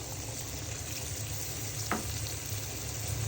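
Hilsa fish sautéing in a pan for a curry with potato and pointed gourd, a steady broadband sizzle running throughout with one brief stir scrape midway, no voices.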